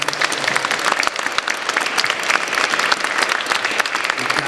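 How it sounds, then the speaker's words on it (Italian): Sustained audience applause fills a hall at a comics presentation at Lucca Comics & Games, dense steady clapping from a crowd throughout, loud and close with no pause. "Ci prendiamo un attimo per fare un applauso a Sergio Tarquinio."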